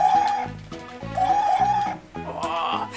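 Chicken clucking from the Boot Hill Heroes video game, a steady run of loud, repeated clucks over game music, with no speech.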